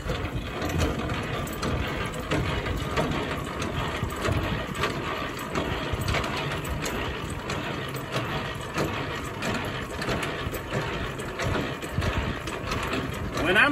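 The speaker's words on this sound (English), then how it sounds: "L, landing gear down. That's what I'm gonna do right now." A hand crank lowers the landing gear on a semi-trailer during uncoupling, giving a steady, continuous mechanical grinding and ratcheting that runs close and unbroken for the whole stretch.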